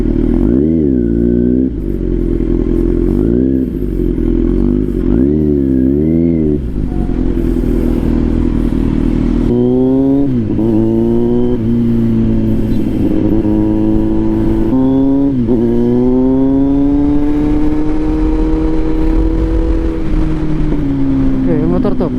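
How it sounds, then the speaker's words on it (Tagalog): A motorcycle with a Royal Enfield-style engine rides along, its revs rising and falling in repeated loud surges before settling into longer pulls, steady and close throughout. "Yung motor to parang yung Royal Enfield."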